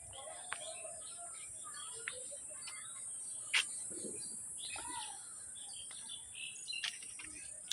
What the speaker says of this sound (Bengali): ও ওই গাছে পাখি এসেছে, পাখি পাখি এসে বসেছে, ঘুঘু পাখি।